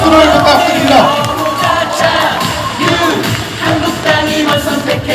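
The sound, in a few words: crowd applauding at a party rally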